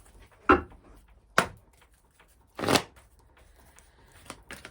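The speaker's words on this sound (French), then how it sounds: "On va prendre une carte des 50 nuances de mon autre." Oracle cards shuffled during a card reading, three distinct riffling bursts at irregular intervals, close and quiet, with faint softer rustles near the end.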